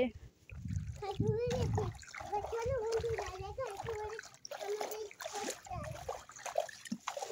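Splashing through flood water, with repeated sloshing steps and watery splashes close by, mixed with a voice and other people talking over the noise.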